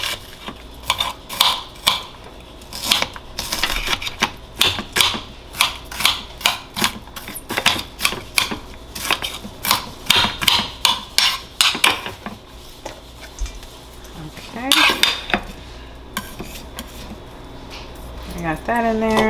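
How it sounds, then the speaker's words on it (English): Knife chopping shallots on a cutting board for salmon tacos, rapid rhythmic clacking chops in quick bursts, close and crisp, with a person talking intermittently alongside. "I'm gonna cut up a little bit more shallots as well."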